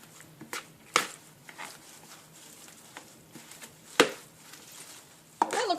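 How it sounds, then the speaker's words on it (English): Two spoons stir mayonnaise dressing through a low-carb chopped salad in a bowl, making soft, scattered clinks and scrapes. A few sharper knocks stand out against a quiet background, and nobody speaks. "I just take my 2 spoons, kind of mix the dressing a little bit together first, and then just slowly start stirring it into everything."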